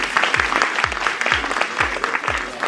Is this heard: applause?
yes